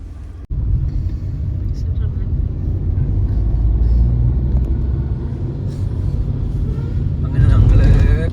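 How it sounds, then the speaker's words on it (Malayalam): Buses rolling in through the main gate of Kollur Mookambika temple, a steady low engine rumble lasting throughout after a brief dropout near the start, swelling louder toward the end as a heavy vehicle draws close. "ബസ്സുകളൊക്കെ കയറി പോകുന്നുണ്ട്"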